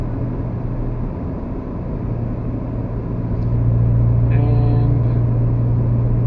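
Engine of a Mazda 3 with a six-speed manual transmission, a low steady hum while driving that swells slightly louder partway through, with a single spoken word at the start.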